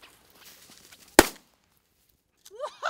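A single sharp gunshot cracks out loud and close, with quiet rustling before it and a voice starting to speak shortly after.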